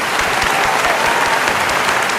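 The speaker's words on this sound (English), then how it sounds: "Can I get some applause," Applause for the launch of a meme competition at a festival celebration event, a steady dense wash of many hands clapping at once, loud and continuous throughout.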